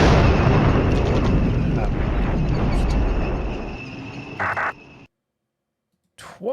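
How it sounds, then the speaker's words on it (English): Artillery barrage in the Cold War wargame Flashpoint Campaigns: Cold War, a dense rumbling roll of blasts that fades out over several seconds, then drops to silence with a brief interface click near the end. "Twice the artillery now."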